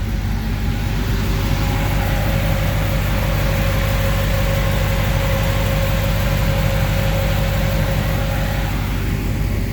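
A 2004 Chevy Silverado with a 5.3 engine, aftermarket cam, gears, headers and exhaust idles close by, a loud steady low rumble with a deep pulsing lope and a faint tonal whine above it, no voices.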